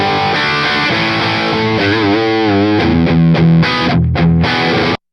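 A heavily distorted electric guitar played through an 800 amp into a Sur cabinet rings out in loud sustained chords and bending notes, alone and dense, then cuts off abruptly.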